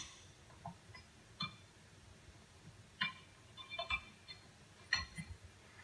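Quiet, scattered clicks and light metallic ticks come from a socket wrench ratcheting bolts tight on a PowerBlock curl bar, irregular and close but faint, with no talking.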